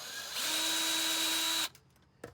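A power tool removes a bolt on an EF Civic hatchback. It makes one steady, close whirring burst of just over a second, then stops with a short clack.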